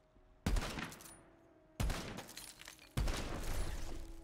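Three loud, sharp sniper rifle shots in the fantasy shooter game Tiny Tina's Wonderlands, spaced over a few seconds, each with a sudden crack followed by a lingering, decaying tail under steady game ambience.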